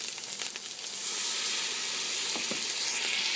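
Rice poured into sofrito frying in a pot, giving a steady broad sizzle that swells after the first second and holds loud, with a few soft stirring scrapes and no voices.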